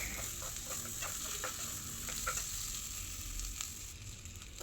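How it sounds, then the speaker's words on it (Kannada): Washed rice and cumin frying in a pan for jeera rice, a steady broadband sizzle running throughout with faint intermittent stirring scrapes, close and even in level. "ಮೊದಲೇ ತೊಳೆದಿಟ್ಟಿರುವಂಥ ಅಕ್ಕಿನ ಹಾಕಿ ಸ್ವಲ್ಪ ಫ್ರೈ ಮಾಡ್ಕೊಳ್ಳಿ"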